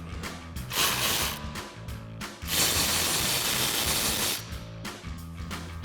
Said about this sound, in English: we'll grab our 15mm socket on our ratchet and get these off